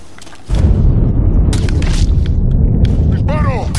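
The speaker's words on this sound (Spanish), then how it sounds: "¡Disparo!" Gunshot in the Mafia 3 video game, a loud booming blast that erupts after a quieter stretch and is followed by ongoing rumbling game noise with a brief sweeping tone near the end.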